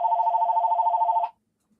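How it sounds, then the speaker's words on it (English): A telephone bell rings in one continuous trilling burst of about a second, close and clear, then cuts off into silence. "Why is that phone ringing?"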